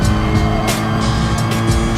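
Race car engines roar in GT Sport at the Interlagos circuit, a dense, steady high-revving drone with faint tire noise and brief bursts of hiss, continuous and without talk.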